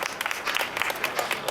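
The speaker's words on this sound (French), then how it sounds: "On peut applaudir, je pense." A live audience applauds during a French stage show, a brief burst of scattered, moderately loud clapping with a few voices in the crowd.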